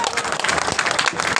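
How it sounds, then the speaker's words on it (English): Festival audience applauding at the end of a conversation session, a dense, steady round of clapping from a crowd throughout. "Let's give them a big round of applause."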